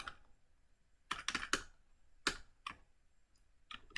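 Code typed on a computer keyboard: irregular bursts of close, crisp key clicks, some in quick clusters, separated by short pauses, with no talking.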